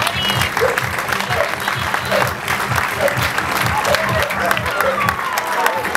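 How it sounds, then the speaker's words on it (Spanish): Sustained crowd applause at an outdoor football club tournament event, steady clapping from many hands with rhythmic music and a low beat underneath throughout. "un fuerte aplauso para ellos"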